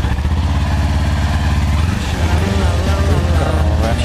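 A motorcycle engine fires up and settles into a loud, steady running rumble close by, with a slight change in tone partway through.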